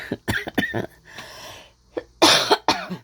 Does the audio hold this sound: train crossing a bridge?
no